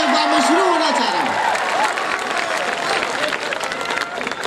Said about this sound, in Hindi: भाई तालियां बजाओ तो जरा झूम के बजा दो